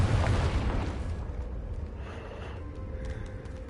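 Confringo fire spell explosion in the video game Hogwarts Legacy: a loud, rumbling blast at the start that fades into a lingering whoosh and crackle.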